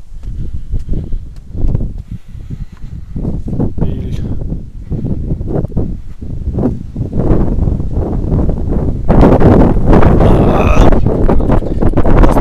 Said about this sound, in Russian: Стоянку стал, ветер вообще капец.